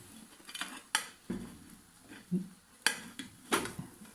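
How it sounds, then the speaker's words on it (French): A plate lifted off a hot frying pan after a tortilla-style crustless quiche is flipped, giving a few sharp clinks and scrapes of crockery against metal spaced across a few seconds, with a faint sizzle between. "avec souplesse et délicatesse, je vais retirer l'assiette"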